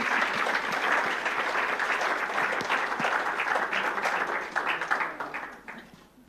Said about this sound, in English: And I think another round of applause, would be necessary here.